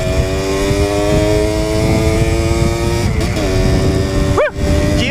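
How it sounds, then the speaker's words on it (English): A Yamaha DT50LC motorcycle engine buzzes loudly and steadily while riding, dipping briefly near the end as the rider double clutches. "Did you hear the double clutch?"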